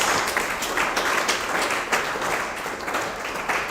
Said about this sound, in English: With a round of applause, may we invite the CEO and founder of Paradise